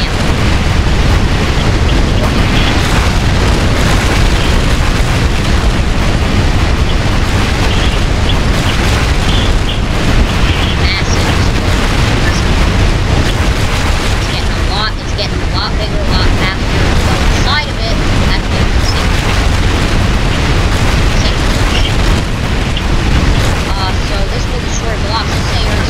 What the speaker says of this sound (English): This explosion is way bigger.